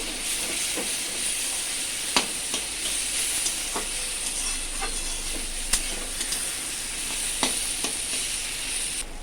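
Gobindobhog rice frying and being stirred in a hot pan, a steady soft sizzle with scattered scraping clicks of the spatula, close and alone.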